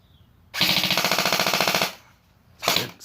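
An M4 airsoft gun fires a loud, rapid full-auto burst of evenly spaced shots lasting over a second, then a shorter second burst follows after a brief pause.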